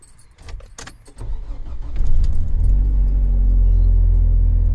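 A car engine with a hard-starting fault cranks with a few quick clicks and whirs, then catches and settles into a loud, steady low idle rumble.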